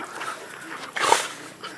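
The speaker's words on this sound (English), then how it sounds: "here's all the dogs" Dogs on a farm in the Philippines, heard as a brief dog vocalisation, a whimper or yip, rising about midway through a quiet, faint outdoor background.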